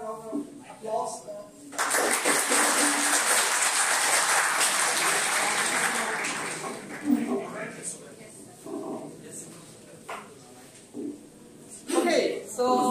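Audience applause at an academic talk on careers in economics swells after a brief stretch of speech, holds loud and dense for several seconds, then tapers off as talking resumes.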